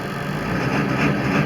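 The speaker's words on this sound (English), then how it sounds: "the engine's missing really bad, chugging" Ford 7.3 Power Stroke diesel engine missing badly, a steady low rough chugging idle close by that runs on without pause, with no talk over it.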